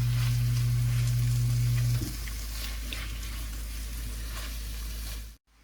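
Cubed cream cheese melting in a pan gives a steady, fairly loud sizzle. A low hum runs under it for the first two seconds, and near the end there is a faint clatter before a short drop to silence.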